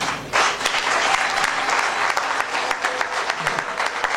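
A church congregation applauds to welcome a celebrant at a jubilee thanksgiving service, with steady, full clapping from a large crowd that continues throughout.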